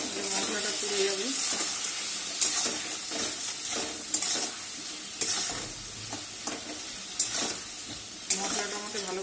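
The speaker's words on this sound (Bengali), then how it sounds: "মশলাটা আমাকে ভালো করে কষাতে হবে।" Spice paste stir-fried in a pan while cooking prawns with yogurt, giving a steady loud sizzle with repeated scraping and clanking strokes of a spatula at an irregular rhythm throughout.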